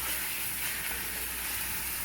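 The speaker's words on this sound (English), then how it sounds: "Here, nice sizzle." Marinated chicken thighs sizzle steadily in hot rendered andouille sausage oil in a pan, a soft continuous frying hiss with no voices.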